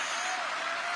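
Dense, steady crowd applause after a speech at a Hungarian election event, a continuous wash of many hands clapping at fairly constant loudness with no pauses.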